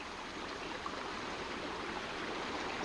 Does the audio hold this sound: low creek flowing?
yes